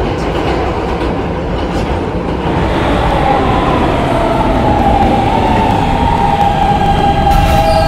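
A D train on a Roblox subway line pulls into a station, with a steady loud rumble and a rising electric whine that settles into a held tone, no voices present.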